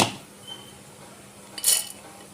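Soaked, drained lentils being added to a mixer jar, with a faint clink of the container near the start and a short, sharper clatter of the jar or lid toward the end, otherwise quiet.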